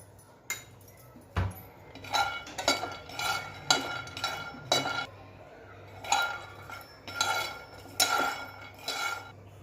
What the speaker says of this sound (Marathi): तर आता आपण हे शेंगदाणे भाजून घेऊया. मी गॅसवर कढई तापत ठेवली आहे.